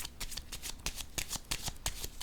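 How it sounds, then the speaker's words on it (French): Tarot cards being shuffled and laid down during a reading, a fast, close, papery riffle of repeated crisp card flicks with no talking. "Je vais déposer une autre carte."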